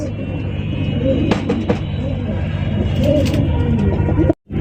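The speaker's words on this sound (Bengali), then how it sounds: "এটা ভাই দেশি কবুতর ভাই।" Domestic pigeons at a busy pigeon market coo in low, throaty, repeated calls, close and layered over crowd murmur and background bustle, ending with a brief cut to silence.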